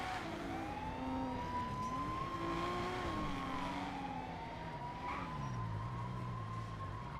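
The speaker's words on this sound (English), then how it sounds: "Siren?" A police siren in a video game wails, sweeping up and down steadily over a continuous engine drone, moderately distant, with no talking.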